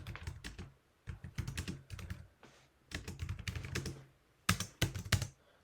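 Quick bursts of typing on a computer keyboard, with rapid clicky keystrokes in short runs separated by brief pauses, close and fairly quiet.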